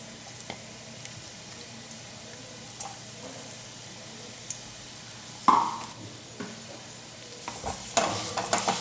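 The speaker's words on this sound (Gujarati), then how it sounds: "ખજૂરને આપણે ઘી સાથે સારી રીતે શેકી લઈશું" Dates roasting in hot ghee in a kadai give a soft, close sizzle broken by scraping stirs and a few louder clacks of the spoon against the pan, with no voices.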